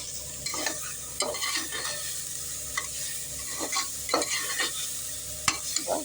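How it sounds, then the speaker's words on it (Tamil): Bitter gourd, onion and tomato sautéing in a pot, with a soft steady sizzle and the repeated scrape and clatter of a spoon stirring, close and without talking. "காயோட கொஞ்ச நேரம் இந்த வெங்காயம் தக்காளியெல்லாம் வதங்கி வரட்டும்."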